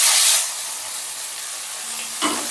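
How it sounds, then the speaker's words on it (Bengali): Soybean chunks hitting hot mustard oil in a pan, a loud hissing sizzle that fades to a steady crackle and flares up again near the end, no talk. "মিশিয়ে নিয়ে প্রথমেই আমি সোয়াবিনগুলো ভেজে"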